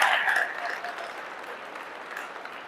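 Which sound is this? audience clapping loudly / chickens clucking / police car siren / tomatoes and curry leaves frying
audience clapping loudly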